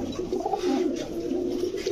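Racing pigeons coo in soft, throaty, rolling calls, close and continuous over a low background murmur.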